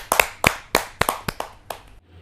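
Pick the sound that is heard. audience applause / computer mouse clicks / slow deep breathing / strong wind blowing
audience applause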